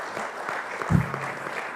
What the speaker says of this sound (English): I think the applause needs to be louder.